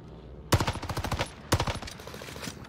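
Volkssturmgewehr rifle fire in the Warzone video game, two sharp rapid-fire bursts about a second apart, each a quick rattling string of close, punchy shots fading into a short tail.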